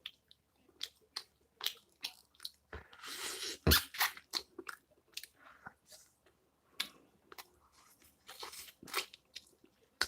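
Someone bites and chews crunchy kkanpung fried chicken during a mukbang, with scattered sharp crunches and quieter chewing close to the microphone in an otherwise quiet room.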